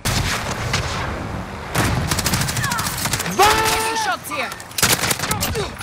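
Dense gunfire rolls on through a video-game battle below, with rapid bursts, heavier booms and whining tones over a constant rumble, partly under voices.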